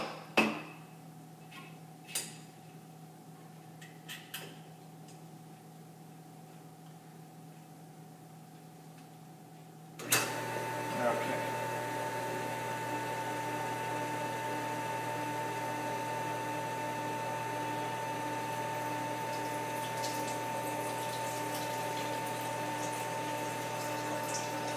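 Norwalk juicer pressing juice from filled press bags: a few faint clicks and knocks over a low hum, then the press motor kicks in abruptly and runs as a steady, moderately loud drone to the end.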